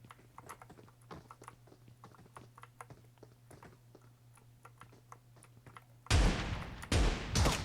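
Rapid bursts of gunfire from a shooter video game in a solo-versus-squad match, a dense crackle of close, loud shots in the final seconds after quieter clicking and distant game noise.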